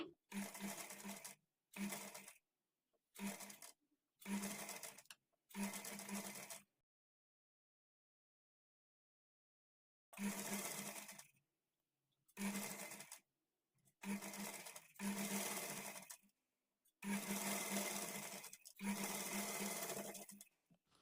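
A sewing machine stitches blouse sleeves onto the bodice, running in short, close bursts: about five quick runs, a pause, then six more, the last ones longer and steady.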